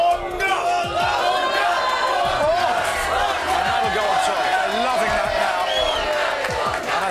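A studio crowd at The Big Breakfast's 2000th show cheers and whoops steadily through the scene, with loud talk over the top and occasional thuds and bangs.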